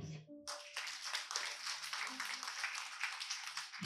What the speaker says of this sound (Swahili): Jipe Yesu makofi.